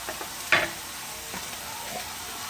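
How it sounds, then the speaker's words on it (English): Beef cubes drop into a pot over onions, giving a soft, steady sizzle with a brief louder clatter as the meat goes in, then a low frying hiss continuing alone. "Got my beef cubes down in here, and I'm placing it all around over top of the onion"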